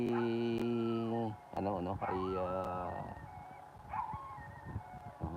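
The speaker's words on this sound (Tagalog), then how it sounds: "nakita niya ako ay umuungol, ang aso kong alaga" A pet dog howls and whines near the owner's sister's house, long tonal wails bending up and down, followed by softer whimpers under someone talking and background noise.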